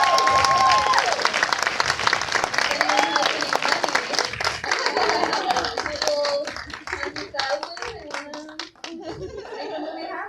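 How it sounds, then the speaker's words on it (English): Audience applause at a film premiere screening, a dense burst of clapping filling the room, close and loud, gradually thinning out toward the end while voices and laughter rise over it. "So let's just clap to that."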